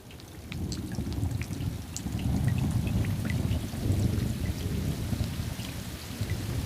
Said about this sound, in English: This happens every time a raindrop hits a puddle.